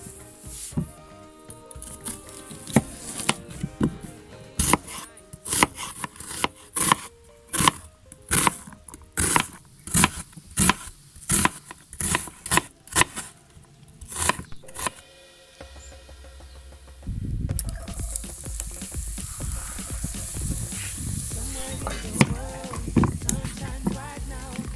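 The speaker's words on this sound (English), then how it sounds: "Just cut the carrots also into smaller pieces." A knife chops carrots on a wooden board in a steady run of crisp, evenly spaced close knocks, then gives way to a louder hiss and sizzle of cooking.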